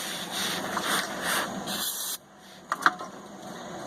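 Brake parts cleaner hisses from an aerosol can in steady spray bursts over about two seconds, then cuts off, followed by a couple of short clatters as the can or parts are handled nearby.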